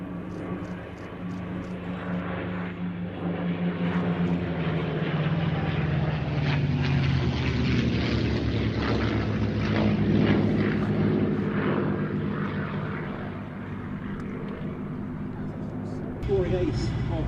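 Two P-51 Mustang propeller fighter planes flying past, a continuous deep engine drone that swells toward the middle and then eases off over about seventeen seconds.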